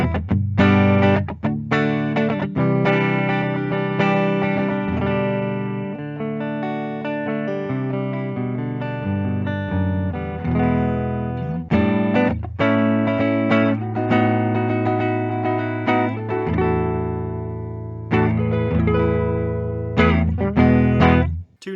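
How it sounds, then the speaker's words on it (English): Chords strummed on a Gibson ES-295 Scotty Moore signature electric hollow-body guitar through the neck pickup, full and sustained, ringing out in a steady series of strums with brief pauses, loud and alone without any voices. "Starting with our neck pickup, let's do some chords."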